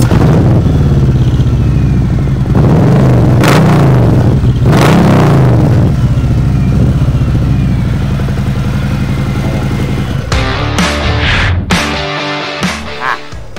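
A Harley-Davidson Milwaukee 8 107 (1680 cc) engine with a CFR exhaust rumbles loud and close, blipping the throttle in a few sharp revs before settling back to a deep idle.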